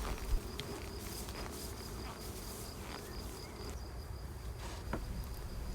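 A colony of honeybees in an open Laurenz hive fills the air with a steady, close buzzing drone, a dense insect hum that holds throughout with no voices over it.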